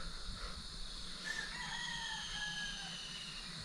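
A rooster crows at a campsite in the morning, a drawn-out call at moderate distance over a steady outdoor background hum, with no talking.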